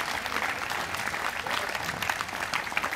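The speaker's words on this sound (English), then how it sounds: "So Nancy Kruger deserves a big round of applause." Audience at an outdoor Jazz in July concert giving a round of applause, soft, distant-sounding clapping with scattered sharper claps over a few seconds.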